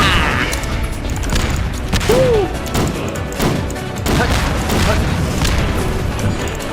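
In Garry's Mod, Junkrat's bomb weapon sets off repeated loud explosions, booming crashes that come in a rapid string one after another and stay up close and heavy throughout, with a voice briefly shouting among them.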